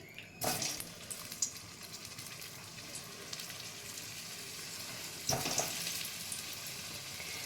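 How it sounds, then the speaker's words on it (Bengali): Potatoes frying in hot oil in a wok, a continuous crackling sizzle that flares loudly twice as pieces go in or are turned, with no speech. "এবারে আমি আলুগুলো একটু করে ভেজে নিচ্ছি।"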